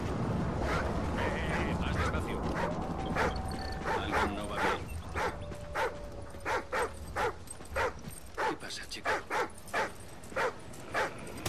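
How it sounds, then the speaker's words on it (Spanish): A dog barks in the video game Call of Duty Ghosts, a rapid series of sharp close barks in a regular rhythm over game ambience, with a few whimpers and a person talking early on. "Bueno, ladra Riley"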